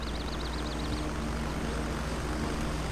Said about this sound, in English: Two more choppers just dropped people off at Fox 1.